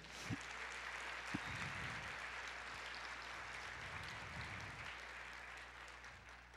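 A church congregation claps together in a steady, continuous wash of applause, heard faintly and at a distance.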